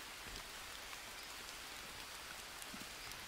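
Steady rain falls in the Green Hell jungle survival game, a soft continuous patter of drops with a few louder nearby splashes and no talk.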